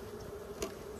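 Honeybees buzz faintly at an open hive during an early spring checkup, a brief, soft, steady hum with a slightly louder swell midway.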